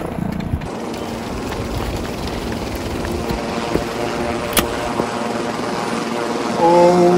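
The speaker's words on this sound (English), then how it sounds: "Helicopter is already close to us!" Helicopter in an action film scene, a steady rotor and engine drone holding at a fairly loud level throughout, growing slightly louder toward the end with other noises layered over it.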